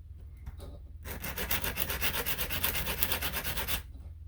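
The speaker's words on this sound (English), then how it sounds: "This is where our sandpaper comes in," Sandpaper or a sanding stick rubbing along the cut edge of a piece of aluminum for a custom-made shock part, a quick run of close, rhythmic rasping back-and-forth strokes lasting about three seconds, with softer scrapes before and after.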